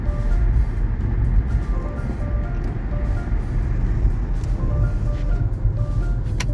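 Road traffic heard from inside a moving car on a North Carolina road, a steady engine and road rumble with vehicles passing, no talking.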